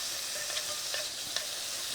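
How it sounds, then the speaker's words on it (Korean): Meat stir-fried quickly over high heat, a constant bright sizzle with light spatula scrapes and clicks scattered through it, close and steady. "온도는 높은 온도에서 재빨리 볶도록 하십시다"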